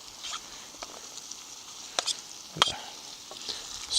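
Meat being stirred into softened, browned onions and apples in a pan at a mountain campsite dinner, quiet background sizzle with a few sharp scraping and clinking stir strokes, no talking.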